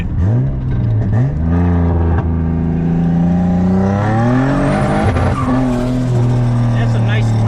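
A turbocharged Nissan VQ35 engine tuned to roughly 400 horsepower revs hard, its loud throaty tone climbing and dropping in pitch over several seconds, with voices in the background.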